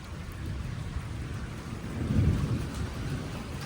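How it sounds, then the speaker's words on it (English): A thunderstorm under an Oklahoma tornado warning: steady rain hisses throughout, and a low roll of thunder swells near the middle before settling back. No one speaks. "No tornadoes yet, just lightning and rain."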